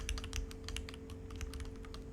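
Keys clatter steadily on a computer keyboard, a quick, close run of light clicks with no voices.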